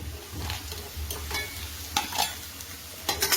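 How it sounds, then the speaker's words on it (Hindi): Makhana (fox nuts) are sautéed in a pan, with a continuous close dry sizzle and repeated stirring scrapes and light rattles, moderately loud and with no speech. "अब हमें इसे सौटे करना है।"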